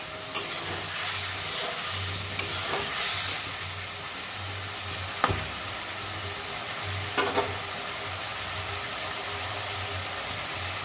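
Spice paste frying in a pan, a steady sizzle with a few sharp knocks and scrapes of stirring, alongside a low, pulsing hum in the background.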